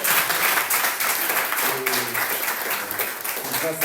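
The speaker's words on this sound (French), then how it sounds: "On peut applaudir pour l'équipe de louange, je pense aussi." Church congregation clapping for the worship team, a dense steady applause filling the room with a few voices murmuring underneath.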